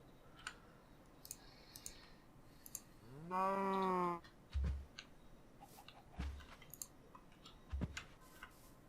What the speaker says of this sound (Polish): To jest krowa.